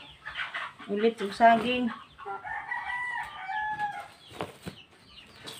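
Farmyard chickens cluck and a rooster crows nearby in a series of rising calls during feeding time, while a person talks briefly over them.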